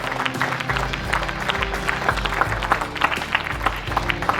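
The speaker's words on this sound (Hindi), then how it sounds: "जोरदार तालियां इस बात के लिए।" Audience applause at a tree-planting awards ceremony in Rajasthan, a steady dense clapping from a crowd over low background music, lasting throughout at moderate level.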